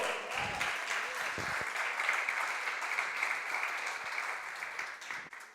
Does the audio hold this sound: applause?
yes